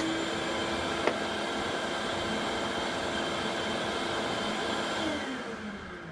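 A Milwaukee Fuel table saw with a dull blade ripping Baltic birch, a steady loud whine with a sharp tick early on, then the tone drops as the blade spins down at the end.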